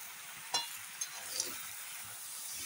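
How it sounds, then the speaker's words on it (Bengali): Malabar spinach greens are stirred in a pan, giving a faint, soft sizzle with a couple of sharp scrapes and clinks of the utensil against the pan. "শাকটা দেওয়ার পরে এখন আস্তে আস্তে নেড়ে দিই।"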